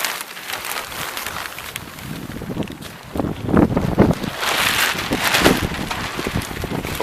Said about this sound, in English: Told you it's windy.